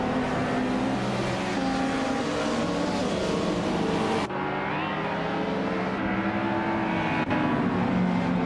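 Race cars in a video game roar off the starting grid, led by a 1985 Ferrari 288 GT, in a dense, loud and unbroken engine drone with a few shifts in pitch and no talking.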